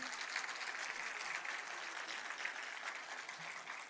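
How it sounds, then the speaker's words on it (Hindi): A large audience at the inauguration ceremony of the Uttar Pradesh State Disaster Management Authority headquarters in Lucknow gives steady, sustained applause, faint and distant, an even wash of clapping with no breaks. "एक बार जोरदार तालियों से स्वागत कर लें आप सब"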